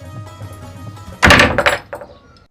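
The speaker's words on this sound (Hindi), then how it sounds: "मुंह पे दरवाजा बंद कर दे" A door slams shut with a loud, sharp impact and a brief rattling decay, standing out against quiet background noise in a home.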